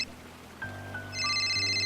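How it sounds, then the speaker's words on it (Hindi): A phone rings with electronic tones that start faintly and build into a louder, sustained layered chime by the end. "पर जब बार बार फोन आता रहता है तो भी चिंतित हो जाते हैं।"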